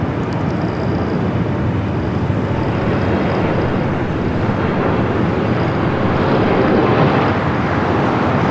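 A six-year-old Swiss Boeing 777-300ER, arriving from Zurich, comes in to land at Los Angeles airport on runway 24 right. Its broad, continuous jet roar stays loud and steady throughout, swelling slightly near the end, with no voices.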